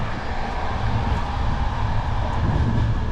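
Steady low rumble of a moving first-class train carriage in Morocco, a basic older coach, with continuous rolling rail noise and faint rattles throughout, no voices.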